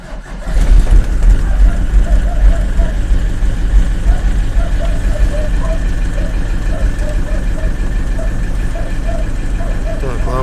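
A cold Iveco Daily diesel engine, just fitted with a new timing belt, water pump and seal, catches and settles into a steady, close, loud running clatter with a slight rise in revs.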